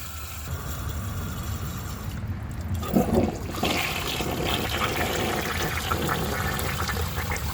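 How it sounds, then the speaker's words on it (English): A 1988 Artesian Atlantis toilet flushes with a steady rushing and trickling of water, louder for a moment near the middle, then a continuous gurgling flow until the end, with no voices. "I'm going to try giving it another flush once the tank refills."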